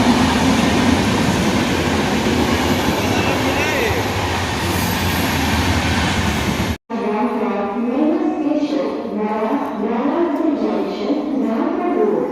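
Train arriving at a busy railway station, a loud continuous rumble and clatter of rolling cars that cuts off abruptly and gives way to quieter station ambience with people talking.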